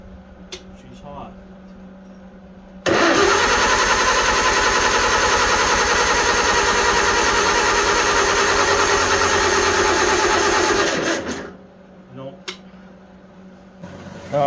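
A Farmall Super C tractor engine fires up and idles with a loud, steady rapid chugging that runs for several seconds before cutting off abruptly, with a few quiet sounds before and after.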